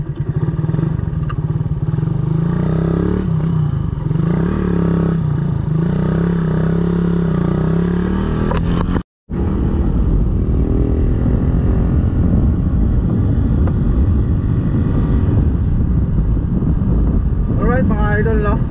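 A Raider 150 motorcycle fitted with a 28mm carburetor revs its engine loudly and close up, a steady droning roar that cuts out briefly midway and then resumes with a rougher, rising tone.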